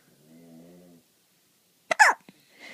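A young child hiccuping indoors, one abrupt close hiccup with a small catch of breath following a short stretch of adult voice.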